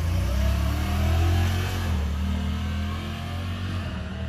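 Honda Talon 1000X-4 side-by-side accelerating in reverse, engine droning loud and close with a brief surge that eases off toward the end.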